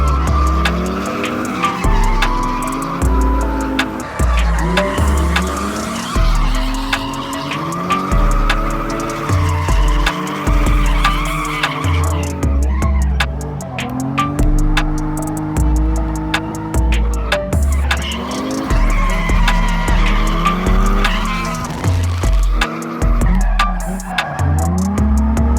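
A drifting car screeches its tires in long, loud squeals while the engine revs and bangs through the limiters, several passes sweeping close by in a sustained, continuous roar.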